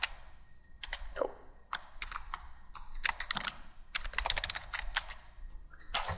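A password is typed on a computer keyboard, with quiet, close, irregular key clicks in uneven bursts and no talking over them.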